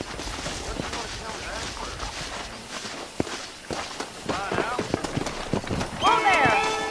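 Galloping hooves thud in irregular rhythm through a Red Dead Redemption wild-horse wrangling scene, growing louder toward the end where a horse's whinny rises briefly over the pounding.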